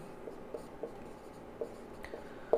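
Pen or chalk writing out a maths formula, soft scratchy strokes and light taps spaced irregularly, close but faint with no talk over them.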